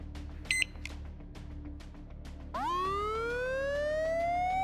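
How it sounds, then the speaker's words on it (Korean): In the video game Trickcal Revive, an emergency siren starts partway through after a few short beeps and clicks, then rises steadily in pitch as a loud, continuous electronic wail. "무나티엄의 비상 사이렌?"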